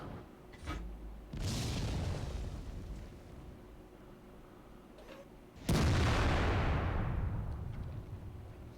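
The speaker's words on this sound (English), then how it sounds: "this is technically an artillery gun, just mounted in the hull of a tank destroyer" A hull-mounted artillery howitzer on a tank destroyer in World of Tanks fires twice, each shot a loud, deep boom with a long rumbling decay, the second blast heavier and closer than the first, with no talk.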